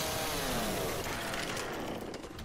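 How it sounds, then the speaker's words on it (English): Chainsaw in the video game Left 4 Dead 2, a steady close buzzing whine that runs unbroken through the whole moment, loud and alone with no talk over it. "And a new chainsaw."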